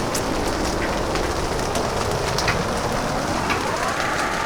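A modular synth patch on a Music Thing Modular Workshop System produces steady synthesized rain: dense, even hiss with soft scattered drop-like ticks. A faint rising tone sweeps upward near the end.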